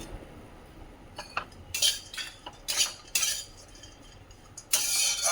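Metal spoon scraping and clinking against a pan while grated coconut is stirred and fried over medium gas heat, in short irregular bursts of scratchy clatter, close and fairly quiet, with no talking.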